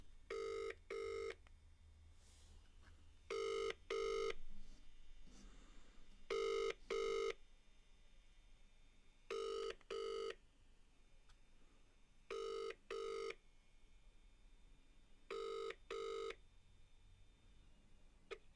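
Telephone ringback tone from a call to a friend during a Manchester United vs Leicester match stream, sounding in paired bursts repeating about every three seconds, clear and steady over a low background hum.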